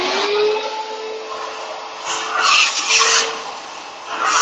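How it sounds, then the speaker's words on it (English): A vacuum cleaner runs continuously in an indoor workshop-type room, a steady broadband whine with a faint tonal hum, surging louder in a few spots as the nozzle moves over a surface. "quick vacuum."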